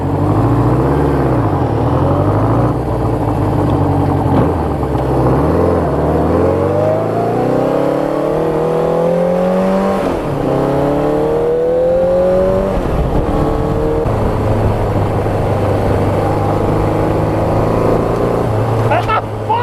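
Suzuki Bobber motorcycle cruising at highway speed, a loud continuous engine drone with rising and falling pitch as it shifts and accelerates, heavy wind roar throughout, and a rider's voice shouting over it.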